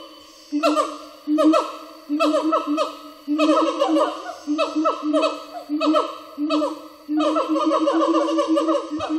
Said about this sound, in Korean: 마치 누군가에게 소식을 전하듯 기본들의 목소리가 다급해 보입니다